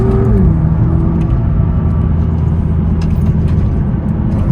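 A BMW M2 LCI cruising at steady speed along a small country road, its engine a continuous low rumble with tire and road roar, near and loud throughout with no talk.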